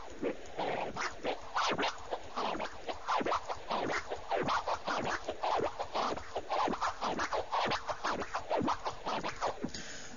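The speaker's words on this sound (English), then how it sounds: "So you're putting two clicks as you're moving the record back and forth." Record scratches made with the FL Studio scratcher, a two-click flare pattern, sound as quick, rhythmic back-and-forth swipes, repeated steadily and evenly with no voices.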